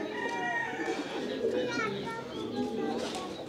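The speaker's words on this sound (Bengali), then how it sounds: "দর্শক এ পাশে রয়েছে বিভিন্ন রকম কবুতর" Pigeons of various kinds coo in a garden collection in Satkhira, the soft calls steady and close, with several people talking over them throughout.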